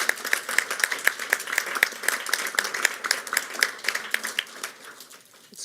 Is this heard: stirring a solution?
no